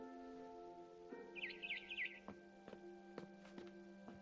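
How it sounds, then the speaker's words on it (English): Barn swallow chirping outside a window in a video game: a short burst of high twittering calls over a steady background hum, followed by a few sharp clicks. "Then I heard chirping outside my window."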